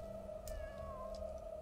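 A cat meows in the indie horror game The Emulator, a faint drawn-out call over a steady electronic drone and low background rumble.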